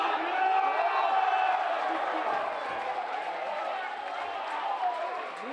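Home football fans in a stadium cheer a goal during a Slovenian second-league match, a broad steady roar of crowd noise heard from a distance that holds for several seconds and fades slightly, with a commentator talking over it.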